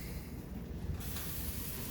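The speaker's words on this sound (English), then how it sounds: "you hear that sizzle?" Cornbread batter hisses and sizzles in hot oil in a cast iron skillet, a steady close spray of frying noise that brightens partway through, with no talking.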